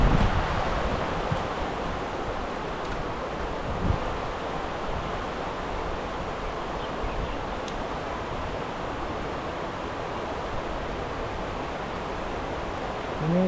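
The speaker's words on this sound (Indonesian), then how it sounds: "Ini suaranya agak berisik karena di grojokan ya. Air terjun." A dense, steady rush of water falling down a waterfall roars continuously, a broad hiss filling the scene without letup.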